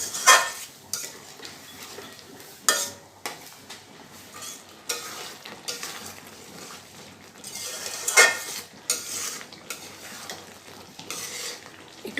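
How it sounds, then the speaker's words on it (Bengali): A spoon or spatula scrapes and stirs spice paste with water in a pan, sizzling gently as it fries. The clanks against the metal come in irregular bursts, close and fairly soft. "মশলাটাকে ভালো করে কষিয়ে নিতে হবে।"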